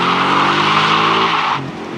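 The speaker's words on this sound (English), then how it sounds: "Some of you may see a priceless burnout, an 11, if you will, on the ground." A muscle car spins its Pirelli tires in a burnout, a loud, close, sustained tire squeal over engine roar that cuts off sharply, leaving a lower idle rumble.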